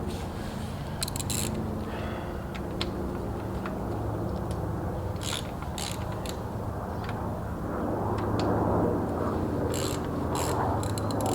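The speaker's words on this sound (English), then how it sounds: "now we're gonna undo the fuel pump from the valve cover, and you need T45, one of these guys." A ratchet with a T45 Torx bit loosens tight fuel pump bolts on the valve cover of a 2014 Ford Taurus SHO, giving close, repeated clicking bursts in short runs over a low background hum.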